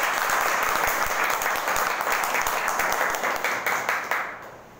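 Crowd applause at a business seminar for a direct-selling company, a loud dense patter of many hands that holds steady and then fades toward the end with a few distinct claps.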